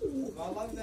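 Pigeons coo softly in a neighbourhood coop, a brief low throaty murmur heard close up.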